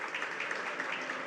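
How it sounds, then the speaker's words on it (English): Audience applause fills a morning plenary session of the Minamata Convention COP5. The clapping is brief and even, at moderate volume, with no voices heard. "May we give them another round of applause, please?"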